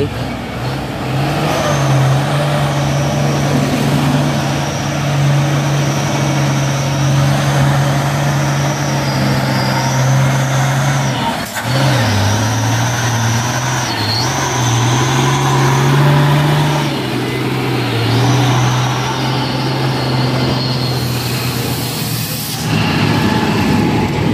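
An orange Hino 6x4 HD tank truck drives past with a loud, steady engine drone and road noise that hold for the whole stretch, rising and dipping a little in pitch, with a brief jolt midway.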